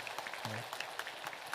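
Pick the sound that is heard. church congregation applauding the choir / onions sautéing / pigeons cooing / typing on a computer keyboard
church congregation applauding the choir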